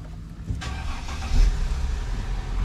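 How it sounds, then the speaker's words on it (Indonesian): A Mercedes S-Class engine cranks and fires up close by, settling into a steady low idle rumble after the start. "Ayo kita starter dulu."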